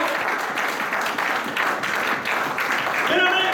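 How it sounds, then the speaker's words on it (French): A church congregation claps and cheers in acclamation, a dense continuous wash of applause and voices filling the hall, with a few shouted tones near the end. "Si c'est la vérité, nous acclamons pour le Seigneur."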